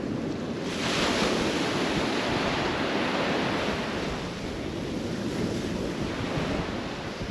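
Small waves roll continuously onto the beach at Kilnsea on the East Coast under a fading wind, a broad, loud, steady wash of surf with light wind buffeting and no voices.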